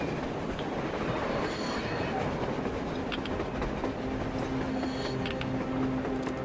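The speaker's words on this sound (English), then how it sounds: "A train! A damn train on the surface!" Surface train in Metro Exodus rumbling along steadily, with a dense, continuous roar of rolling wagons, faint wheel squeals and rhythmic rail clatter holding at a constant loudness throughout.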